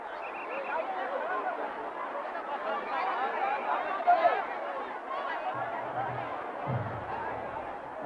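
A large crowd gathered in a small city square for a Ramayana festival reenactment, a steady murmur of many voices and chatter throughout, with brief louder bursts and low rumbles near the end.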